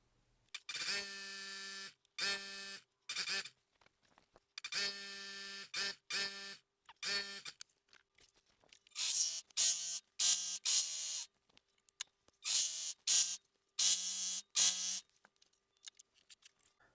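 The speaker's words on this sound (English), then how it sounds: "I also need to serge this edge because it will stay raw within the garment" A serger overlocks the raw edge of shirt fabric in a run of short, loud motor bursts with brief pauses between them, close up and with no talk.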